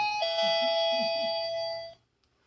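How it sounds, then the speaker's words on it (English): A doorbell sounds a single sustained electronic chime tone lasting nearly two seconds, loud and close, with faint indoor background murmur beneath it before it cuts off. "Got me a little doorbell."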